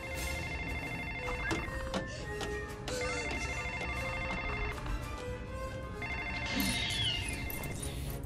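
An old-style telephone ringing in the Lego Jurassic World video game, with repeated electronic rings over a busy game soundtrack and effects, steady and fairly loud throughout.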